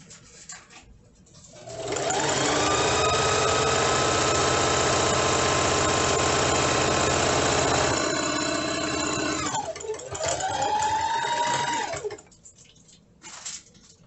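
A sewing machine stitches a seam on a plastic bag holder, running steadily for about eight seconds, pausing briefly, then running again for about two seconds. The steady hum is close and loud.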